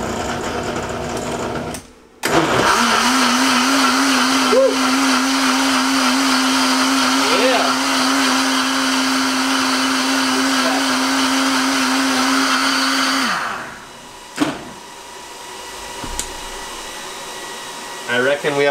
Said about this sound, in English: that's exactly what I'm gonna do now in the big boy Vitamix